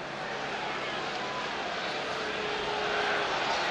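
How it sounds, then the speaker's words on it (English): A helicopter flying over a football stadium during a match, heard as a steady broadband rotor and engine roar that swells slightly toward the end, mixed with crowd noise. "there is the helicopter"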